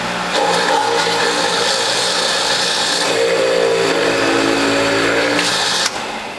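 A juicer with a front-loading feed tube shreds carrots in a loud, steady motor whir that grinds on continuously, shifting slightly in pitch midway and cutting off abruptly just before the end.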